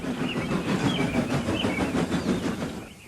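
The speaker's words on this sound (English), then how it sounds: "Thomas and Percy were shunting nearby" Toy-like engines from an animated railway show shunt nearby, a busy, continuous rumble of rolling wheels and clattering cars at close range, fairly loud and steady, without talk.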